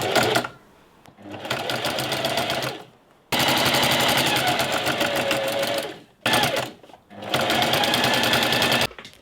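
A domestic sewing machine fitted with a quilting foot and a thick needle stitches through denim, running in loud, steady bursts with short pauses between them.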